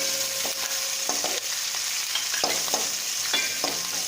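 Tomatoes for a South Indian fish curry sizzle and fry steadily in a pan while being stirred, with repeated scraping strokes of the spoon every second or so over continuous frying crackle; close and fairly loud, no talking.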